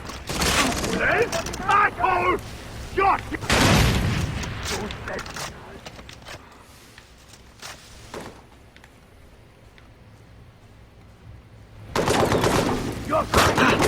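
Gunfire in a video game crackles in loud bursts alongside excited talking, then fades to a quieter lull before another heavy volley breaks out near the end.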